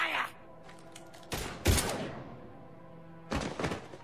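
Two bursts of rapid gunfire from the video game Mass Effect 3, a loud volley early on and another near the end, with quieter game ambience between them.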